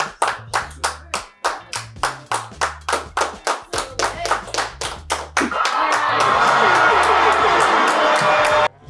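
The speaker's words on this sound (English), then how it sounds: "Round of applause for our very own Andy Rooney, Big Lenny." A studio audience gives a round of applause, starting with rhythmic, evenly spaced group clapping that swells after about five seconds into a dense, sustained burst of clapping before stopping abruptly.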